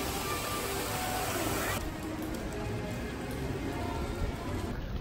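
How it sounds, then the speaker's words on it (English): Heavy pouring rain at Disneyland Paris, a dense steady hiss of falling water on surfaces filling the scene, loud and continuous with no talking. "it's pouring rain today"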